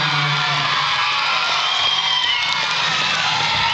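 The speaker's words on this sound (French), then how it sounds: "On l'applaudit, bravo." A chess audience cheers and claps in a dense, loud, continuous wash of crowd noise with whoops, sustained without break.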